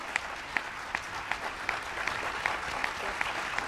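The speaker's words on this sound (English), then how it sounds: "Give these extraordinary women one more big round of applause." Applause from an audience for women at a Health and Human Services resignation and nomination announcement: a steady wash of clapping with faint, regular sharper claps standing out, moderately distant and continuous throughout.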